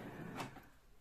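A drawer in a home craft workshop slides open with a soft, brief scrape and knock, quiet and close, with no talking over it.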